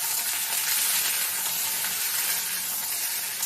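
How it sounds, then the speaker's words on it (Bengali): Okra stirred and fried in a pan gives a dense, even sizzling hiss that runs without a break and with no voices. "ঢ্যাঁড়সগুলোকে দিয়েও ভালো করে আমি নাড়িয়ে চাড়িয়ে নেব।"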